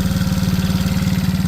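A Chinese quad ATV with a new carburetor, factory bowl and intake pipe idles close by, a steady, rapid, even chugging throb.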